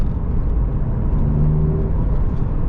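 A Volkswagen Golf GTI Clubsport S engine runs with a steady, loud, low rumble and a brief rising whirring tone in the middle, close by, with no talk.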